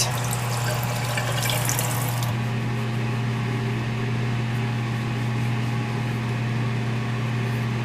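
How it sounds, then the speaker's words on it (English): Tap water running steadily into a bathroom sink and over a hand, a continuous rushing hiss with a brief louder splash at the start, heard close and alone over a low hum. "Just ran some water over it and then I scrubbed with my fingers"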